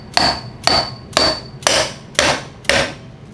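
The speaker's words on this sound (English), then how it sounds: "I have my dead blow mallet. I'm just going to tap the cover on." A dead blow mallet taps a pump cover into place during a pump rebuild: six loud, close, evenly spaced thuds about half a second apart, each with a brief ringing decay and no talking.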